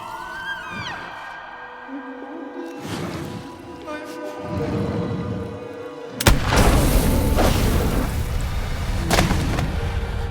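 A single loud, sharp gunshot from The Quarry video game booms out partway through, followed by a lingering noisy rumble. Before it there is a quieter, tonal game soundscape.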